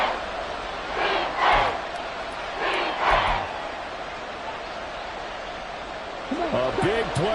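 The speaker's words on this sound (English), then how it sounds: "A big play here as the crowd noise rises" Football stadium crowd at a Dolphins vs Panthers game, a broad roar that swells twice to loud peaks and then settles back to a steady murmur.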